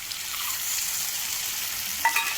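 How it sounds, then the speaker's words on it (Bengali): Ginger, cumin and green chili paste frying with salt and turmeric in a pan over a fire, a steady sizzle with a sharp scrape of the spoon near the end. "দিয়ে আমি ভালো করে কষতে থাকবে"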